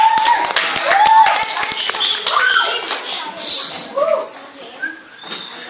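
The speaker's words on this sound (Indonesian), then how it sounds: "tepuk tangan dong" An audience of schoolchildren at a class-3 school drama performance claps briefly and loosely, near and fairly loud, mixed with children's voices and chatter.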